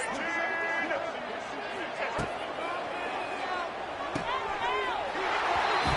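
A college football stadium crowd roars steadily through a tense overtime two-point try, a broad sustained din under a play-by-play announcer's talk, with sharp bangs and whistles cutting through.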